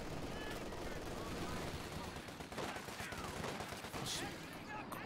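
MG42 machine gun fire in a World War II strategy game match, a steady rattle of automatic fire layered with other shots and combat noise, continuous and fairly close, with a caster's voice over it.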